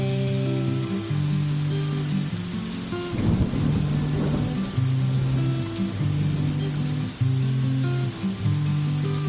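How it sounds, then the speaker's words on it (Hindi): Rain falls steadily with a deep roll of thunder midway, over a sustained musical tone pattern in the background. "बादल गरज रहे हैं, बारिश बरस रही है।"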